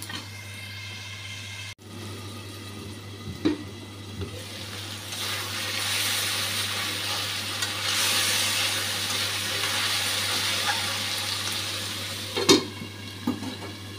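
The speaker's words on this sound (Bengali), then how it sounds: "আলুটা ভাজতে দিয়ে দিচ্ছি।" Potatoes frying in a pan over low heat, a steady broad sizzle with occasional sharper pops and a couple of stirring scrapes, close and continuous, no voices.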